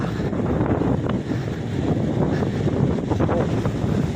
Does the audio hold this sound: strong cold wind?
yes